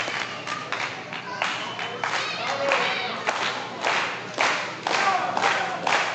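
A crowd at a live wrestling event cheers and claps continuously, a broad roaring wash of noise with rhythmic surges of applause building and falling over several seconds.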